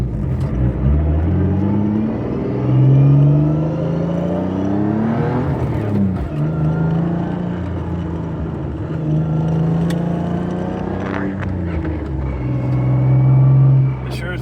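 A 2004 Lexus IS300 drift car driving, its engine revving and rising and falling through gears in a steady close-up drone, with brief shifts and one stronger surge near the end.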